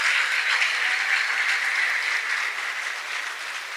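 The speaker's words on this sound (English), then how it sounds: "Give her a round of applause." Audience applause at a faith and charity evening, a dense steady wash of many hands clapping that stays fairly loud before easing slightly toward the end, with no talking over it.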